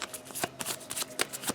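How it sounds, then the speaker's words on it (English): A deck of cards for the Kingdom Death Monster board game is shuffled by hand in quick riffling bursts, a rapid series of close, crisp flutters and slaps with short pauses between them. "So let me shuffle everything back in."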